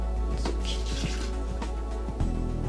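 Aged rum is poured straight in for a piña colada: a steady trickle over a constant low hum with a few soft drips, close and moderate, with a slight surge near the end and no voices.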